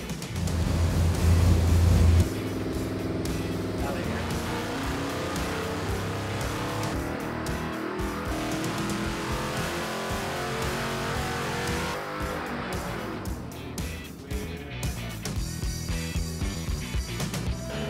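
Carbureted V8 with stock exhaust manifolds running on a dyno, a loud steady drone of engine roar climbing through a long pull and then easing off toward the end, with no talk.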